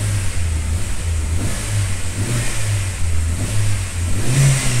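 A 2009 Chevrolet Astra engine, just repaired for a pinging knock, revs up and down repeatedly from near idle, loud and close, with steady rising and falling pulses and no talking.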